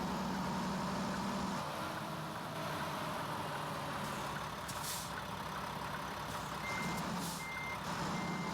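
A truck in American Truck Simulator backs into a single loading bay, its steady reversing beeps repeating over a continuous engine drone and occasional air hiss.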